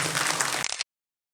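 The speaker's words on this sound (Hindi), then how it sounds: "एक बार जोरदार ताली से अभिनंदन।" Enthusiastic audience applause greets a guest at a religious Bhagwat katha gathering, a dense burst of clapping that cuts off abruptly within a second.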